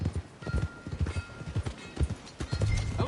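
Horse hooves clip-clop steadily in Red Dead Redemption 2, a brisk rhythmic trot of close, punchy footfalls carrying through the whole stretch with soft ambient noise beneath.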